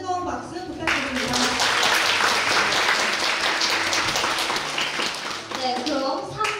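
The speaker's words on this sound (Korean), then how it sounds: "멋진 무대 보여주신 UDF분들에게 다시 한번 뜨거운 박수 부탁드립니다" An audience at a broadcasting festival stage show gives loud, dense applause and cheering that swells in after a brief voice and fades back toward speech near the end.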